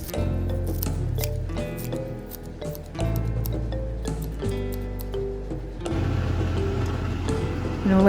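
Small scissors snip through fresh chili for a garnish in a home kitchen, a series of crisp, close cuts in irregular rhythm, some quick bursts and a few spaced single snips.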